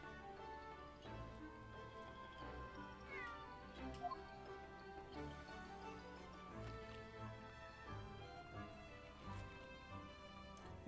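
A cat in the video game The Great Ace Attorney 2 meows softly a few times over faint background music and ticking, with no talk.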